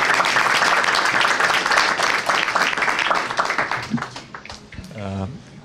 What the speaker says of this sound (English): I think we'll also give Prime Minister Dzurinda a final applause and thank him for his comments.